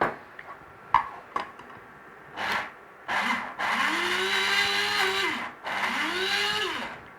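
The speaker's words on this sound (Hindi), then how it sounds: "अब मैं क्या करूँगी कि इन चावलों को पीस लूँगी, मज़ीद क्रीम बना लूँगी इसकी ना।" An electric blender grinds soaked rice into a paste in two loud whirring runs, each with a rising then falling motor pitch, preceded by a few clicks and knocks while it is set up.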